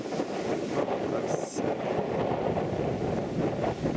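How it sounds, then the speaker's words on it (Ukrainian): Strong wind gusts roar steadily across an open rural spot in Zhytomyr region at night during a bike trip, buffeting the microphone with a constant, loud, broadband rush. "вітер сильний зараз."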